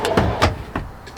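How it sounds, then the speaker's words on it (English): Drawer runners in a 1984 Coachmen motorhome kitchen on a Toyota chassis, easing shut with soft-close slides: a few short, close sliding thumps and clicks, evenly spaced, with no talk over them. "Easy close slide on your drawers."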